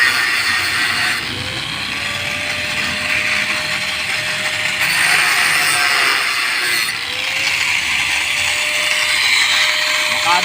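A power tool polishing stainless steel whirs steadily with a high, gritty hiss and a rising whine that repeats twice, loud and close, while someone talks over it.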